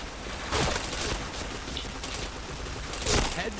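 Rapid bursts of gunfire from a shooting video game, with two louder volleys near the start and end over a steady background of game noise.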